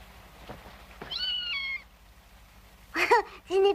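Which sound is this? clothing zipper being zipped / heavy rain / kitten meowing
kitten meowing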